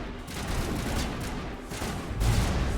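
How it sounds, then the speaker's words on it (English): Sustained gunfire from a Mass Effect Legendary Edition firefight, a dense steady wash of shots and blasts that swells louder toward the end, with no talking. "What are we even shooting at right now?"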